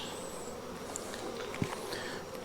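Honeybees buzzing around a hive outdoors, a steady close drone with a faint thud partway through and no talking.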